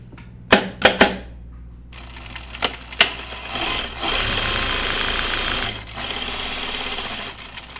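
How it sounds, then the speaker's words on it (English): A home sewing machine runs along a long perimeter edge of fabric for a pinafore or T-shirt, opening with a few sharp clicks and knocks before settling into a steady, close, continuous whir that dips briefly and resumes. "so we're gonna sew all around this"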